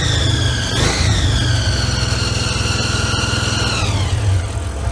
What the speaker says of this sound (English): Idling kind of high.